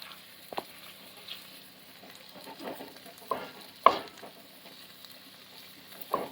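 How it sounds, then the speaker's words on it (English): Chorizo and potatoes fry quietly in a pan while a spoon stirs them, giving faint low sizzling broken by soft scraping clicks. "you want to stir the chorizo so it'll get in there, so the potatoes will absorb the flavor"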